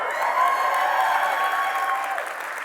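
An audience at a live talk event in Los Angeles claps continuously, a dense, loud wash of applause from start to finish with no talking over it.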